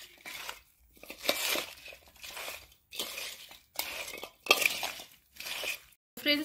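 A pickle mixture stirred in a container, with repeated bursts of scraping, clinking and crinkling at a steady rhythm, each lasting about half a second to a second with short pauses between, close and fairly soft.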